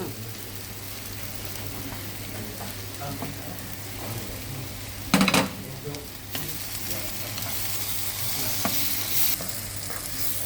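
Sliced onions fry with turmeric in a pan for a stuffed squid dish, a loud, steady sizzle with spoon stirring and a sharp clatter midway, no voices.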